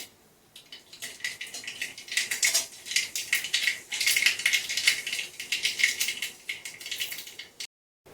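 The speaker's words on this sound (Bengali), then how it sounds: "তেলটা গরম হয়ে গেলে সর্ষে আর শুকনো লঙ্কা ফোড়ন দিয়ে দেবো" Mustard seeds and dried chillies spluttering in hot oil in a kadai, a dense crackle of rapid pops that builds quickly, stays busy and close, then cuts off abruptly, with no talking.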